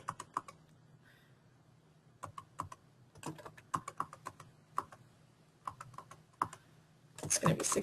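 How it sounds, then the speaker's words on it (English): Typing on a computer keyboard while entering values into SOLIDWORKS during certification-exam practice, including repeated Tab presses: scattered, irregular clicks in short bursts, close and fairly quiet, ending in a louder rapid flurry of keystrokes. "I'm using the tab key on my keyboard"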